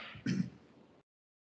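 A single close throat clearing or short cough from an adult during a design project workshop, one brief burst followed by a fading tail and then silence.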